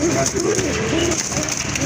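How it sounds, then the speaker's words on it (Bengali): A pair of large white Bombay pigeons coo in low, rolling, throaty notes that come in waves over a steady background hiss. "এক জোড়া বোম্বাই কবুতর হোয়াইট বোম্বাই কবুতর অনেক বড় সাইজের কবুতর"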